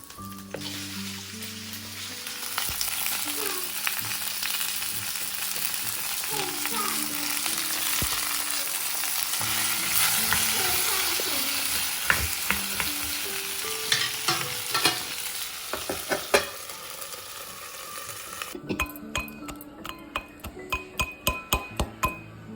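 Green chillies fry in a pan with a continuous crackling sizzle and frequent stirring. Toward the end the frying fades and sharp metallic clinks and taps of utensils follow in an irregular series.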